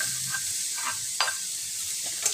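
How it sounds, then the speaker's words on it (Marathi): Finely chopped onions frying in hot ghee in a pan, a steady soft sizzle with a few brief stirring scrapes and spatters, no talking. "आता आपण यामध्ये ॲड करूया 2 मोठे बारीक कापलेले कांदे।"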